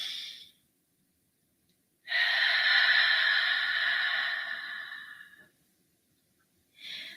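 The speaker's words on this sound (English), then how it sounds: "Breathe in." A long, deep breath drawn in through the nose and mouth during an evening prayer meditation, a steady airy rush lasting about three seconds, close and clear, bracketed by softer exhales at the start and end.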